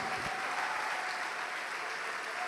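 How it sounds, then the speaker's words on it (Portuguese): A church congregation applauding, a steady wash of many hands clapping at moderate-to-faint level, sustained without a break and with no talk in the clip. "Vamos aplaudir mais ao nome de Jesus."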